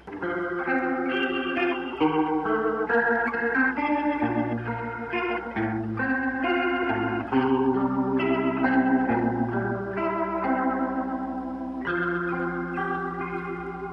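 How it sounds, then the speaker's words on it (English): Electric guitar chords and notes through a fast rotating speaker effect, low and high rotors spinning in opposite directions, a swirling, wobbling modulation pulsing quickly through the sound, continuous and fairly loud. "The 2 speakers are spinning in different directions, the low and the high, and I can speed up"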